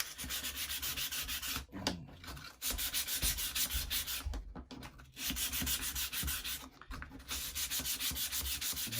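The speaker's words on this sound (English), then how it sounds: "Now we need to sand along that length just to get the sharp corners off. So I'm gonna use actually sandpaper." Sandpaper rubs along the edge of a wooden UGears model part in steady back-and-forth strokes, close and continuous, broken by a few short pauses.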